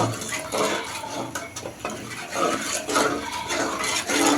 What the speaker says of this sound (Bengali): দুধ একটু নাড়া দেওয়া হইতেছে আর কি, চিনি মিক্সের জন্য